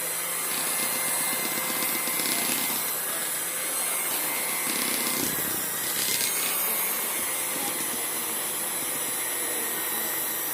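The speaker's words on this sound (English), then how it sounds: "I'm mixing on 1, because I don't want to overwork my hand mixer." A hand mixer on its lowest speed whips buttercream icing in a bowl with a steady, loud electric whir, its beaters scraping and shifting slightly in pitch now and then as they work the thick mixture.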